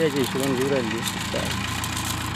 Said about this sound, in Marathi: ठेकेदार साहेबांचं ट्रॅक्टर येत आहे